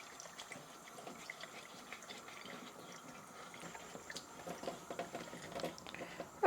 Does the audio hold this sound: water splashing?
yes